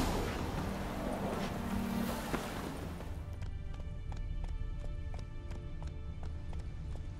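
Hooves of the horse Roach clip-clop in The Witcher 3, first under a loud rushing noise, then as a steady quick rhythm of hoofbeats, near and moderately loud.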